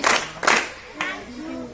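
Two short bursts of schoolchildren clapping in a classroom, sharp and close, followed by a voice speaking briefly.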